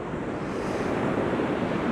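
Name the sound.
sea waves crashing on shore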